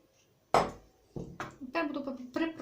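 Beans go into a potato salad in a bowl, a sharp clatter of utensil on dish followed by a few softer knocks and scraping, close and fairly quiet, with some faint voice in the background.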